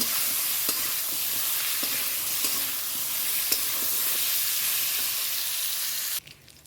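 Pointed gourd, salted and turmeric-dusted, fries in a covered pan with a loud, continuous sizzle and scattered crackles, cutting off abruptly near the end.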